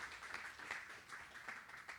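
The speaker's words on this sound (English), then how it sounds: "Give him a round of applause." Faint audience applause at a real estate seminar as a guest is called up on stage, soft scattered clapping from a distance, steady and low throughout.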